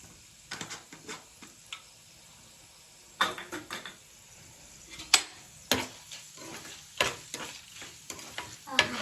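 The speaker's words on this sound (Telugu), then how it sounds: "తాలింపులో ఇంకా కొంచెం పసుపు వేస్తాను అండి" A tempering sizzles in groundnut oil with turmeric as it is stirred, giving bursts of crackling and sharp scraping spoon strokes against the pan, close up and intermittent, with quiet gaps and no talking.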